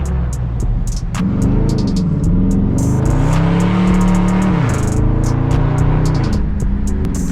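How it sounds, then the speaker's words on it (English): A loud, raspy car engine with a muffler delete revs up and holds high, then drops back, with an unmuffled exhaust roar throughout, close and continuous. "I'm bone stock, but at least I got that muffler delete. I sound good."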